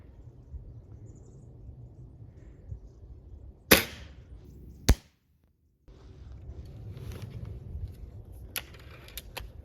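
Two sharp cracks of an air rifle firing .177 pellets, the second about a second after the first, followed by a moment of silence and faint background noise.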